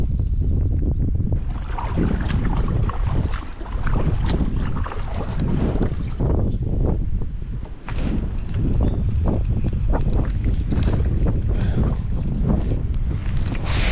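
Strong, steady wind buffets the microphone beside the Erie Canal during a fishing outing, a loud continuous roar with gusts rising and falling for the whole stretch and no talking.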